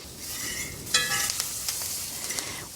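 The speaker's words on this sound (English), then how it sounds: "put the butter in there, and the garlic, the rosemary, and the thyme, and stir it around with the fork or your tongs" Butter, garlic, rosemary and thyme sizzle steadily in a hot pan while being stirred with a fork or tongs, a continuous close hiss with a few sharper crackles and scrapes, no voices.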